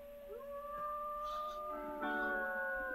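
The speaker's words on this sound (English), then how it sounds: "I'm just gonna howl." A wolf howls in the video game WolfQuest, a long, rising then sustained tonal howl with layered harmonics that a second howl joins partway through, clear over a quiet background.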